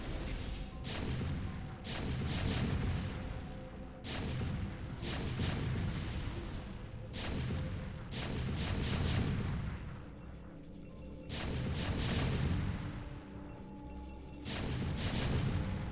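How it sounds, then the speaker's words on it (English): Repeated booming explosions from a StarCraft: Brood War team game, heavy bursts recurring every second or two at steady loudness with no talk over them. "Stuff exploding here."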